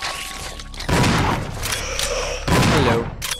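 Shotgun blasts fired at enemies in the video game Resident Evil 0: two loud, heavy booms with rumbling tails about a second and a half apart, preceded by quieter game ambience and mechanical clatter.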